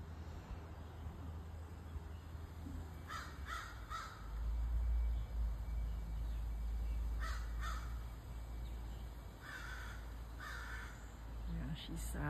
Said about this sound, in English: That's the mama crow.